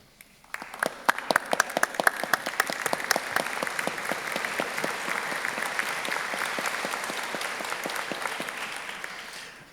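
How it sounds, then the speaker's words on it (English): Audience applause at a University of Bath winter graduation ceremony, clapping that swells quickly from silence into sustained, dense applause from a large seated crowd in a hall, tapering slightly at the end. "what we traditionally do is to applaud after groups of students on particular degree programs"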